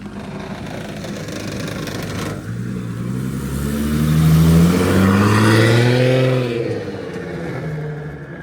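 Fast cars, including a BMW M4, rev and accelerate nearby, with engine roar rising to a loud peak in the middle and then fading, as if a car speeds past.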